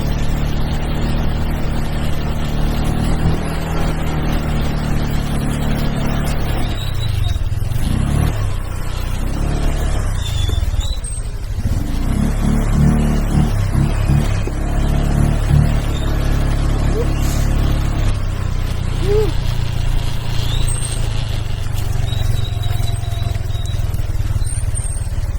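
A heavily loaded motorcycle keeps up a loud, continuous engine drone while riding on the way to a campsite in Cavinti, Laguna, with some wind and road noise and brief shifts in tone.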